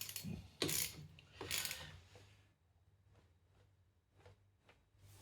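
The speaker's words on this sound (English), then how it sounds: "Drain plug back in. Tighten it up." A ratchet tightening the oil drain plug on a 1983 Suzuki GS125 motorcycle: two loud bursts of clicking near the start, then a run of faint, quicker ratchet clicks.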